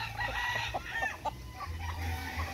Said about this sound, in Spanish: Son de los gallos.